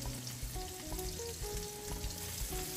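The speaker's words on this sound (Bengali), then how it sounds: "এখন আমি এতে দিয়ে দিচ্ছি পেঁয়াজ কুচি, সাথে দিয়ে দিচ্ছি টমেটো কুচি।" Chopped onion and tomato sizzle in a pan for a crab curry, a soft, continuous frying hiss with gentle crackles and faint tonal background sound, with no speech.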